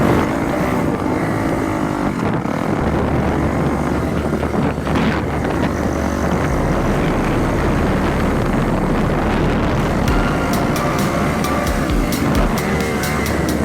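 A motocross bike lapping a dirt track at River Oaks Moto Park in Texas, its engine loud and close throughout, revving and shifting continuously with brief crackling bursts near the end, no talking.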